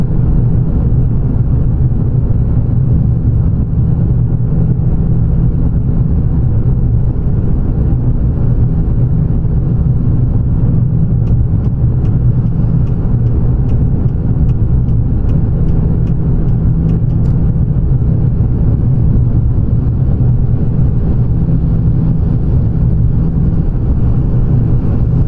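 A heavy truck engine fitted with an SRC Eco grass-burner exhaust, no stacks behind the sleeper, in American Truck Simulator: a loud, steady low diesel drone holding constant throughout with no talk.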